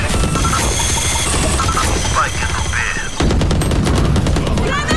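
Rapid automatic gunfire in the tactical shooter game Valorant, bursts of shots crackling loud and close, with a brief lull before a second dense volley, under excited player chatter.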